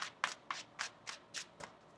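Tarot cards are shuffled by hand in quick riffling bursts, about seven crisp rustles in an even rhythm, close and quiet with no talk.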